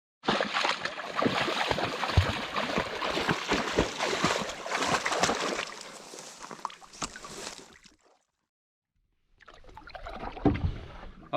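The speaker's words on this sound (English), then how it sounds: "All right, back in the canoe." A canoe moves across a pond in fall with steady splashing, dripping paddle strokes for about eight seconds. After a short silence, softer water sounds and a low knock against the hull follow.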